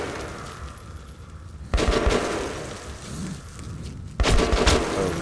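An enemy shooter fires on the player in the video game Metro Last Light, with two loud, sharp bursts of gunfire cracking out over a rumbling ambient background and no talking.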